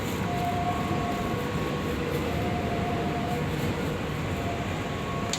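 Inside a moving KRL commuter train, a continuous loud rumble of wheels and carriage fills the space, with faint tonal whines drifting in and out and no talk.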